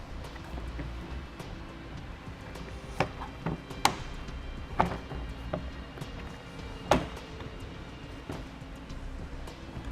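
Factory door panel being pressed back onto a 2010 Chevrolet Traverse: several sharp, separate clicks and light knocks spaced a second or so apart, fairly quiet, over a low steady background hum.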